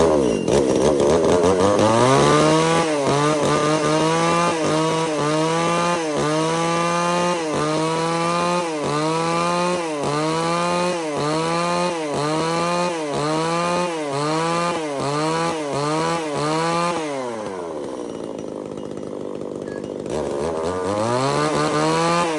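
A 33cc Japanese chainsaw runs loud and close while cutting wood about 20 cm thick, its engine revving in a steady rising-and-falling rhythm of repeated strokes, then dropping to idle near the end before revving again.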